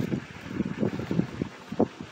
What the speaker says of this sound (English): The wind's blowing, making a little electricity.